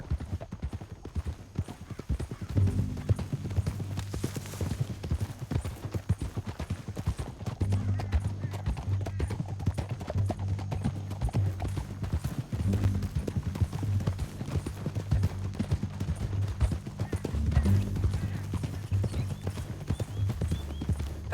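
Steady clip-clop of galloping hooves in Red Dead Redemption 2 runs throughout, joined by an occasional horse whinny, loud and close, with no voices.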